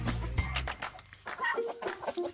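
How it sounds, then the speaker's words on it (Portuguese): Large improved fighting-breed chickens cluck and murmur up close, with a low rumble at the start and several short calls scattered across the stretch. "Olha só que galinhas bonitas, pessoal."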